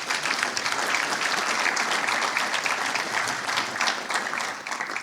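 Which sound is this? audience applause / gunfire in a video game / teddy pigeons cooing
audience applause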